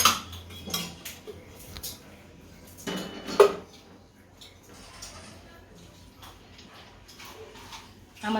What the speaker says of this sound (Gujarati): આ તવલું મૂકશું ગેસ ઉપર એમાં તેલ નાખીશું